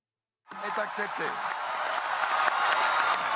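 Delegates at the Paris climate agreement break into sustained, swelling applause after a brief silence, with a voice briefly heard at the start as the crowd's clapping builds and holds.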